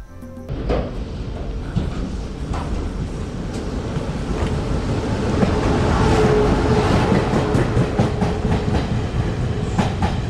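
A passenger train riding along its rails in Miaoli, with a steady loud rumble and rhythmic clickety-clack of the wheels, growing slightly louder midway, and no talking.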